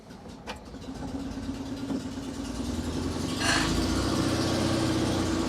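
An Invacar engine, in gear and then shifted to neutral, runs steadily at idle and then swells as throttle is applied, the engine note rising and growing louder near the end, with no talk.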